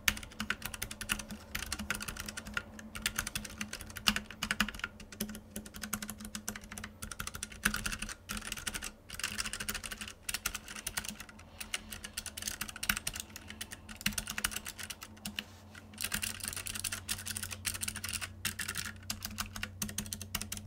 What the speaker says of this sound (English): a quick switch test so that you can hear the differences between the optical blue switches and the optical brown switches